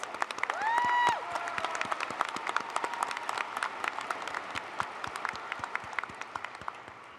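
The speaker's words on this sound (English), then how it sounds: "Let's give them a round of applause." A large crowd claps for the valedictorian and salutatorian at a high school graduation ceremony, a dense, continuous patter of many hands heard from a distance, starting just as a brief tonal sound fades.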